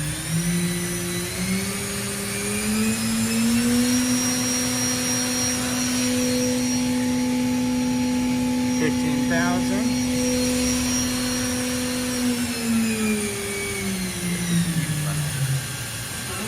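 A Doosan DNM5700 CNC milling machine spindle whines as it ramps up to 15,000 RPM, holds a steady high-pitched tone, then winds back down, with faint talk in the background.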